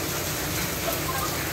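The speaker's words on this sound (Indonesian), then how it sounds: "Hujan, guys." Rain falls near Masjid Ule Tutu in Kota Blang, Aceh, Indonesia, as a dense, even hiss for a short moment, with no clear voices.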